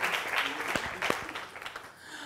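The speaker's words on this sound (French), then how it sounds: "On applaudit le silencieux." A studio audience applauds in a short burst of dense, steady clapping, close and full, with a few voices calling out over it.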